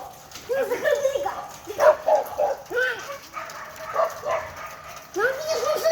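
A dog yips and barks repeatedly in quick bursts while chasing a moose outdoors in Alaska, heard at a moderate distance with people talking over it.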